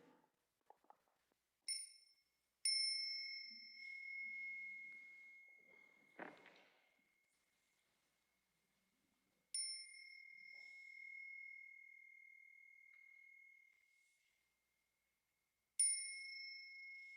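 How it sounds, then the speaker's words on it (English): A mindfulness bell rung at a meditation retreat, struck three times with long gaps, each strike a clear bright ring that hums and slowly fades into silence, with a faint soft knock between strikes. "When we hear the next sound of the bell, let us stand up, bow to one another."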